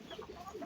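A hen gives a short run of soft, low clucks, close by and faint.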